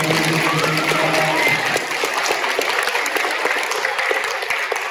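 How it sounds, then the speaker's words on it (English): School assembly applause for a student named Poppy, a dense patter of many hands clapping close by, steady and lively throughout. "Please give Poppy a round of applause."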